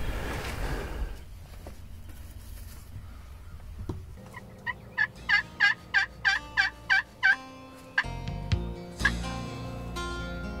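Wild turkeys gobble during a Kansas spring hunt, a loud burst of rapid rattling gobbles repeating in a quick string near the middle, followed by a couple of single calls, amid rustling and quiet outdoor noise.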